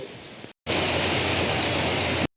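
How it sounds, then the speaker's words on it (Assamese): Rain falls outside in Guwahati as a dense, steady hiss that cuts in after a brief pause and stays loud and even for under two seconds. "এই চাওক বৰষুণ দি আছে"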